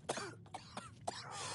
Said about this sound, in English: Lincoln is coughing